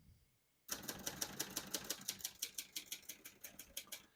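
Typing on a 1968 Hermes 3000 portable typewriter: a quick, steady run of crisp key strikes, close and clear, starting abruptly after a short quiet moment.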